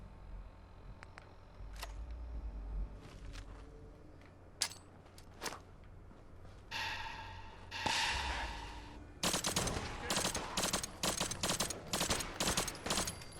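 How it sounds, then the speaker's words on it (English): A suppressed Vector gun fires in Fallout 4 with a mod, first as scattered single sharp cracks, then as rapid close bursts of muffled shots near the end. "So the suppressor sounds pretty cool and futuristic"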